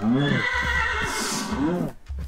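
Two loud whinnying neighs from a horse in the Minecraft video game, one right after the other, with a brief spoken word and faint clip-clop steps between them.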